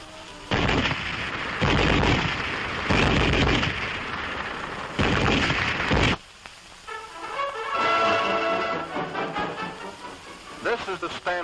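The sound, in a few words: German MG-34 7.92mm machine gun firing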